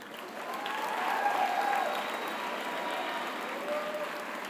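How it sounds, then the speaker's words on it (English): Large crowd applauding at a high school commencement ceremony in a big hall, steady sustained clapping at a distance, swelling slightly then holding even. "please give these people a round of applause."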